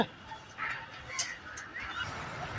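Ducks at a garden pond by a lake give a few short, honking quacks against a faint, steady outdoor background.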